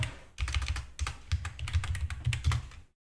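Rapid typing on a computer keyboard, a fast burst of close, crisp key clicks with brief pauses, ending in a short silence.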